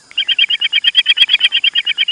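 A voice imitating the cartoon Tooni bird's call gives a fast, even run of about sixteen bright chirps, loud and close, with no talk over it.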